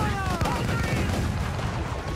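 Cannons fire in Assassin's Creed IV, a dense burst of booming shots over rumbling battle noise, loud and close, with a voice talking over it.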